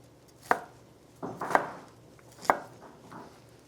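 A knife chops spring antipasto salad ingredients on a cutting board, making four or five crisp, close thuds spaced irregularly, with a quick double cut near the middle and no voices.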